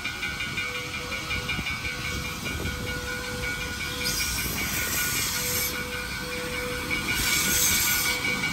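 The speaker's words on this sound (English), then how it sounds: "This train is fantastic." A slow tourist train in South Dakota runs on its rails, a continuous rumbling clatter with hissing steam and intermittent thin wheel squeal, heard close with no talk.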